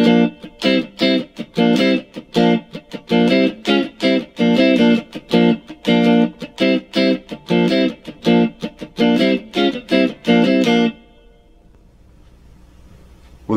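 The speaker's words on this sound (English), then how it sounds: "the guitarist backs him up with some funky strumming that sounds like this" Electric guitar playing funky rhythmic strumming in the style of the backing part to a synthesizer solo, loud choppy chords in tight syncopated bursts with muted gaps, then stopping and leaving near silence.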